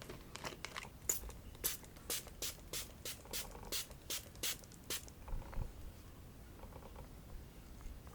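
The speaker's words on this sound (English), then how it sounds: "Why is my spray not spraying?" A makeup setting spray bottle is pumped in a rapid run of about a dozen short, crisp hissing spritzes, close to the microphone, then goes quiet with only a few soft handling clicks.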